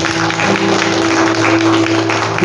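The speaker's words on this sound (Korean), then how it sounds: "우리 강서 교수님에게 다시 한번 박수 드려주십니다" Audience applause for a professor at a church revival lecture, a steady, dense wash of clapping that stays loud and even throughout, with a sustained tonal hum underneath.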